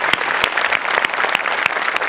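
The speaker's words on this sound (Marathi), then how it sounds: "सो आपल्या शो करता एकदा जोरदार टाळ्या वाजवूया." Audience at a Marathi television comedy show breaks into dense, loud applause, with steady clapping and sharp individual claps running through the whole stretch and no voices on top.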